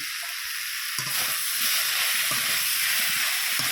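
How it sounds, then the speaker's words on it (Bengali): Spinach and mixed vegetables fry in a pan with cumin and coriander powder, a steady close sizzle with stirring scrapes throughout, growing slightly louder after the first second. "দিয়ে খুব সুন্দর করে আরও কিছুক্ষণ নাড়িয়ে চাড়িয়ে নেব।"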